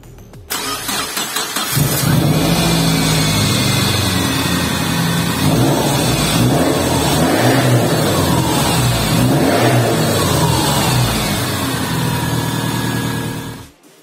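A Subaru Forester boxer engine cranks and catches, then revs up and down several times with a throaty mid-pitched growl before cutting off, loud and close.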